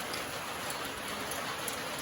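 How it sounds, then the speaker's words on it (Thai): Steady rain pours down continuously, a dense even hiss of drops striking surfaces with no voices present. "พี่น้องฝนตกบรรยากาศป๊าดเด้อ"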